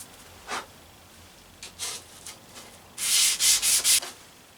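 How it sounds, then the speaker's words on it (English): A Faithfull No. 4 hand plane blade is rubbed to remove rust, giving a few soft scraping strokes that end in a louder run of four quick rhythmic passes, with no voices. "I'll just do a few passes here to get the rust off before we go to the diamond plate"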